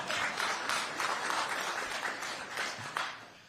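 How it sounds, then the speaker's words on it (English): An audience at a Pennsylvania governor's executive order signing applauds for a staff member, a steady wash of brief, moderately faint clapping that tapers slightly toward the end. "We're going to clap for Amanda"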